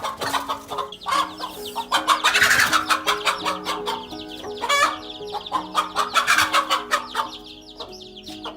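A hen clucks and squawks loudly and repeatedly while fighting a king cobra to protect other hens, frantic harsh calls in rapid bursts with a brief crowing-like cry midway.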